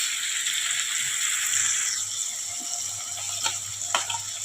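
Hot oil sizzles steadily as garam masala, red chilli powder, turmeric, coriander-cumin powder and salt go into a pan of cooking dried moong bean curry, with a few clicks of a spoon against the pan near the end.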